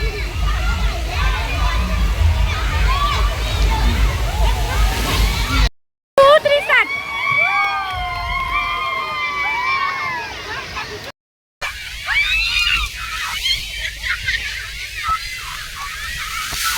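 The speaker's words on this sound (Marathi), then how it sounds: "किती लहान मुलांची मस्ती चालू आहे पाण्यामध्ये." Children splash and play in resort pool water, with sloshing and splatter heard close by under excited chatter and shouts. Lively voices and a busy crowd fill the scene, with short gaps between bursts.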